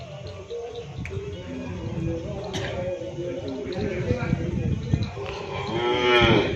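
A prize-winning show cow lows in a cattle pen at the Bogel Sakti farm, several deep moos close by with birds chirping faintly, while someone talks throughout.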